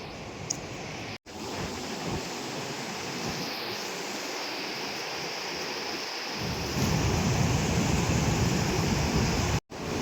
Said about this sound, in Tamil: இந்த தண்ணி வந்து கரை புரண்டு அடிதிரண்டு வந்து இருக்கு